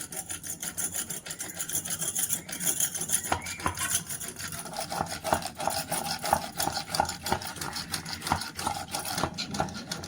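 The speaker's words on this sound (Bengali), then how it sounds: "এবারে ডিম আর চিনি ভালো করে ফেটিয়ে নেব।" Eggs and sugar being whisked together in a bowl for a homemade sweet give a steady rapid scraping and clinking, close and fairly loud, keeping a constant rhythm with no talking.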